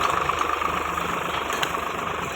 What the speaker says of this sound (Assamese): ট্ৰেক্টৰে হাল বাই আছে দেখি।